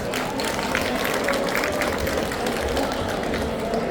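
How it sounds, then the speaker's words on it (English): Audience applause for the Green Tech Eco Booster finalist at a Shell LiveWIRE eco-boost panel, a steady dense wash of clapping from a room full of people lasting several seconds. "A round of applause, please."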